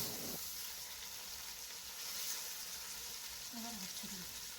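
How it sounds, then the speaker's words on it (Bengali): Fish pieces laid in hot oil with turmeric for doi mach give off a steady, soft frying sizzle, fairly faint and continuous, with no speech. "এই যে মাছগুলো আমি তেলের উপর দিচ্ছি, এই যে মাছগুলো অনেক সময় গরম তেল ছিটকে পড়ে"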